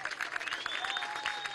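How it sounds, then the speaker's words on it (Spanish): Audience applause at a public event with a presidential visit in the Mamera neighborhood of Antímano, a steady patter of many hands clapping at moderate distance for about a second and a half. "Un aplauso."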